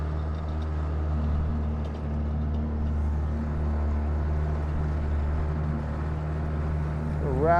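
A 2002 Jetcraft 15-foot aluminum jet boat with a 40HP Yamaha jet pump drones steadily on the water, a low engine rumble with wind and water wash, rising in pitch at the very end as throttle comes on.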